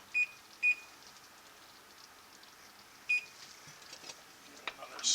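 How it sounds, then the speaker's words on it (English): A kitchen timer gives two quick beeps, then a third after a pause, while Hungarian potato and sausage soup simmers on the stove. The beeps are fairly quiet over low room noise. "Timer."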